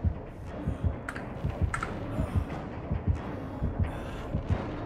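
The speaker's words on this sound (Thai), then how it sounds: "โอ้โหหัวใจเต้นตึกตัก" A steady double-thump heartbeat from Dead by Daylight pulses at a regular, fairly quick rhythm throughout, close and prominent, with faint clicks scattered between beats.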